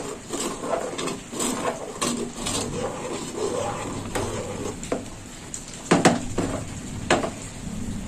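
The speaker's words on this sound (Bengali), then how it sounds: "এবার ডালটা একটু নাড়িয়ে চাড়িয়ে নেবো।" Lentil dal with turmeric, ginger and green chili paste being stirred in a cooking pot, giving soft scraping and clinking of a spoon against metal, with a few sharper knocks near the end.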